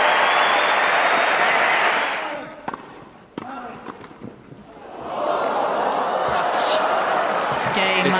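A tennis crowd applauds loudly in a dense, sustained roar that fades midway, leaving scattered thumps and chatter, then swells back to full applause before the end.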